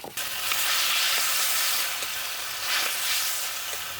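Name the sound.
tomatoes frying in oil for bendakaya pachadi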